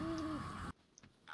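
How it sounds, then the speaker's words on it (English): Pigeon cooing from a rooftop in the survival game 7 Days to Die; a short, soft hooting call heard first over a loud background and then briefly again once the scene falls quiet. "There's another pigeon on the roof."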